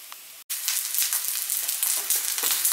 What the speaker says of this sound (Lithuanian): Aš tiesiog darau keptuvėje ant didesnės ugnies.